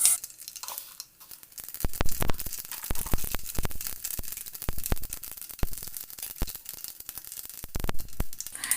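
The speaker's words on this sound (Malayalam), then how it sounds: "ചൂടായ എണ്ണയിലേക്ക് ഞാൻ കുറച്ച് കടുക് ഇട്ട് കൊടുക്കുന്നുണ്ട്" Mustard seeds splutter in hot coconut oil. Close, irregular sharp pops and crackles break out one after another over a soft sizzle.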